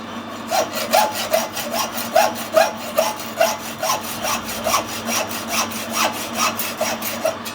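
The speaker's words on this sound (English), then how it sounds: "New hacksaw." A new hacksaw cuts through metal on a steam boiler safety valve job beside a lathe, making steady back-and-forth rasping strokes at an even, quick rhythm, close and loud with no talking.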